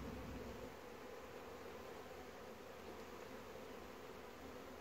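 Honey bees buzz steadily in and around a small six-frame beehive, a dense, even hum that holds constant close to the microphone throughout, with no voices.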